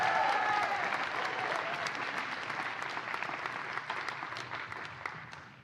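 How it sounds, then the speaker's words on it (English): Sustained applause from an audience at a university awards ceremony in Mānoa, Hawaii: dense, even clapping filling the room, fading slightly toward the end. "Big round of applause for Professor Labriola."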